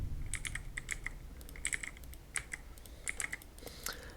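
Light, crisp keystrokes on a computer keyboard, typed in short irregular bursts with brief gaps, close and clear over a faint low background hum, with no voices.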